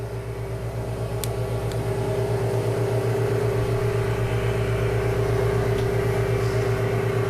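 A valve grinding machine runs steadily with cutting oil fed onto the valve face and stone, giving a constant, loud mechanical hum with a strong tonal drone throughout and a few faint clicks.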